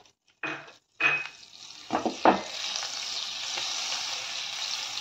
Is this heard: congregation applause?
no